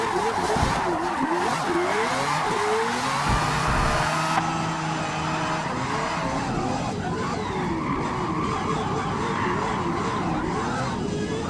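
Mazda RX-7 in a racing video game, engine droning steadily with repeated tire squeals and skids as it corners, a continuous loud mix with faint talk underneath.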